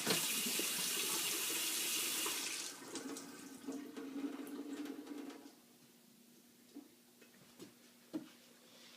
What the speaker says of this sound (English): by turning my cold water on all the way and then going underneath and shutting off.